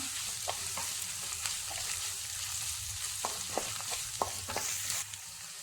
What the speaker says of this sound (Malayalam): ഇതെല്ലാം കൂടി ഒന്ന് വഴറ്റി കൊടുക്കാം